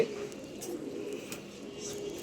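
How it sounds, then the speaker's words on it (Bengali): A silver panel pigeon coos softly and steadily, a faint low murmur over quiet room noise with a few light clicks. "খুবই চমৎকার একটি কবুতর"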